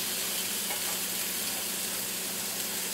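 Burgers on an indoor grill give off a dense, steady hiss of sizzling fat, a loud close crackle with no pause throughout and no talk.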